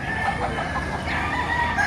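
Roosters and chickens at a busy poultry market in Padre Garcia, Batangas, crowing and clucking continuously over a dense bed of crowd noise and birds close by.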